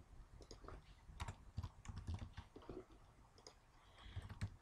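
Quiet, uneven bursts of typing on a computer keyboard, individual key clicks scattered across a few seconds with brief pauses, heard alone at low volume.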